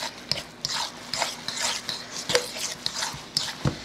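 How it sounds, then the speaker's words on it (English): Raw eggs being stirred into homemade cornbread dressing, a steady series of soft scraping, rasping strokes close by with no talking. "we're going to add our eggs in first and give them a good stirring in"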